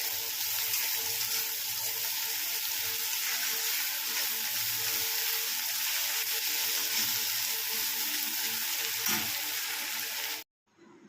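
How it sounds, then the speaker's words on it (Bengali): Onion, ginger, garlic and green chili fry in a pan for a Bengali aar fish curry, giving a steady, close, dense sizzle that runs unbroken for about ten seconds and then cuts off abruptly. "পেঁয়াজ আদা রসুন কাঁচা লঙ্কা সব ভালো করে ভাজা ভাজা হয়ে গেছে"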